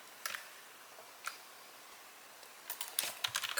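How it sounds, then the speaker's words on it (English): Computer keyboard typing at a desk, scattered single keystrokes at first, then a quicker burst of clicky taps near the end, close and fairly quiet. "I'm just going to type all these manually."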